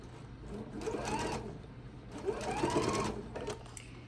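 A sewing machine runs in two steady bursts while stitching a quilt seam, with a short pause between them, moderately quiet and with no voices.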